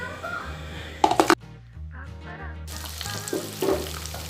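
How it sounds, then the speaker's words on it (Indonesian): Fish frying in hot oil for a crispy curry-spiced dish, with a loud sizzling burst as it goes into the pan, a brief quieter stretch, then renewed crackling sizzle with clattering from the cooking. "Kita goreng ikannya ya teman-teman."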